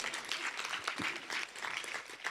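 A conference audience at an environmental justice keynote applauds for the Vermont Law School group, a steady, dense wash of clapping filling the room throughout at moderate level.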